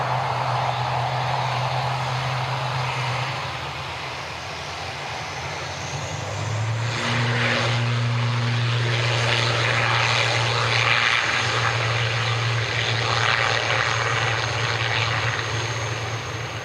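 A propeller aircraft engine drones at Dublin Airport, with a steady, strong hum and throbbing tones that rise and swell midway, close and loud throughout the whole stretch.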